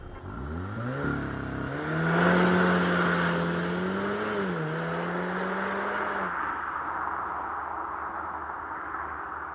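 A 2019 Audi TTS engine winds up hard, with rising harmonics through a quick gear change, then holds a strong pull before fading into road and wind noise, all without talk.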